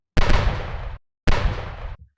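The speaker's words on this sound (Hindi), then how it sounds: "महेश अपने हवलदार को गोलियां चलाने के लिए कहता है और हवलदार बलबीर के जायंट ट्रक पर गोलियां बरसाना शुरू करते हैं" Cartoon police gunfire aimed at a giant truck comes as two loud, harsh bursts of rapid shots, each lasting under a second, separated by a brief silence.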